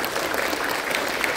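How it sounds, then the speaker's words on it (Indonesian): Audience applause at a gathering, a brief burst of steady, moderately loud clapping from many hands. "coba berdiri dan kita beri tepuk tangan kepada mereka"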